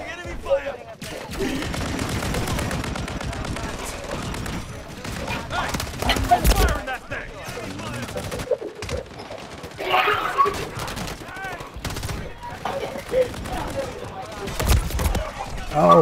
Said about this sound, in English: Taking effective fire! Taking enemy fire!